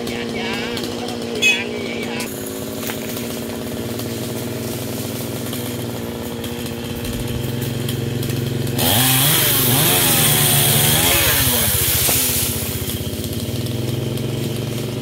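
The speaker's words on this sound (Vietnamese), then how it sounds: "Chú mình cưa cái đọt luôn các bạn ơi." A chainsaw cuts the top of a yellow melaleuca tree, idling and revving with a sharp rise into a loud, strained cutting whine midway; voices talk nearby over the engine.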